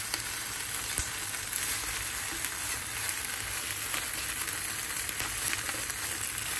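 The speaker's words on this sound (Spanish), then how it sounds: "Mientras se asan aquí los jitomates" Six tomatoes, six chiles and two garlic cloves roasting on a hot griddle give off a soft, continuous sizzle with scattered light crackles and pops, steady and fairly quiet throughout, with no voices.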